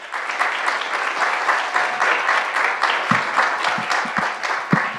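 Steady applause from a lunchtime lecture audience welcoming artist Liz Glynn, a dense wash of many hands clapping at even loudness throughout, with a few sharper individual claps standing out near the end.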